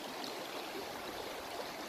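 Cold river water on the San Gabriel East Fork streams and burbles over rocks nearby, a constant, even rushing hiss with no breaks or speech.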